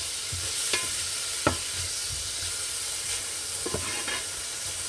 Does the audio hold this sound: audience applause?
no